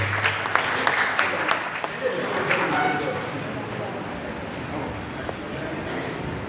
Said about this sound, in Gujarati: જોરદાર તાળીઓથી એમનું સ્વાગત કરજો